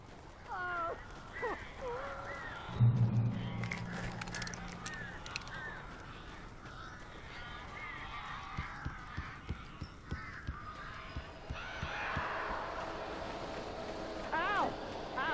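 Harsh cawing birds in the Alan Wake video game call repeatedly over a busy ambient game soundscape, with a loud burst near the start and scattered calls throughout; voices speak at points.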